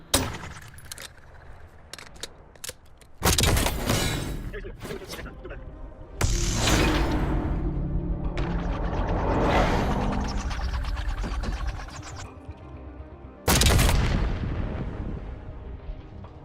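Gunfire in Black Ops 6 on a firing range, with loud sharp bursts of shots breaking in at intervals and ringing out over a busy game background.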